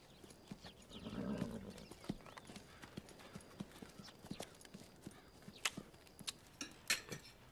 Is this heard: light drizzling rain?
no